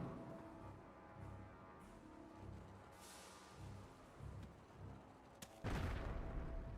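Butterfly bombs in Company of Heroes go off as a series of muffled thuds and crackling blasts at a distance, ending in a louder, sharper burst near the close.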